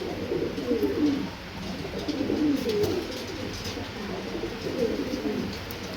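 Pigeons kept for sale coo repeatedly in soft, rolling phrases, several birds overlapping at close range against a steady background hum.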